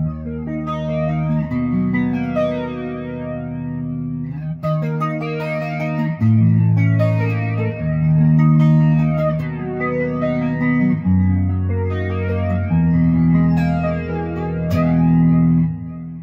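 Clean electric guitar played on the neck pickup of a Blueburst build, loud and sustained chords and arpeggios with shimmering chorus-like effect and reverb, ringing continuously without talk.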